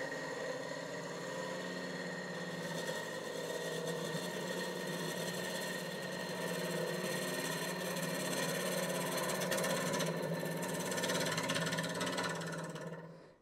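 A wood lathe spins a segmented wooden box at slow speed, giving a steady, continuous motor hum with a constant whirring drone and faint cutting noise throughout, close and alone with no talking.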